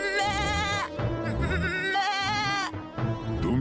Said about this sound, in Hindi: तुम चाहे जितनी भी मिमिया लो